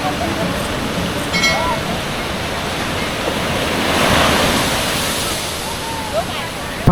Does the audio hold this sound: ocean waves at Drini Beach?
yes